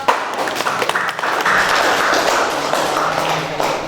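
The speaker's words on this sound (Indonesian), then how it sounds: "Beri aplaus untuk kelompok." A classroom full of students claps for group 3 after its presentation in a teaching practice lesson, a close, lively round of applause that holds steady for a few seconds.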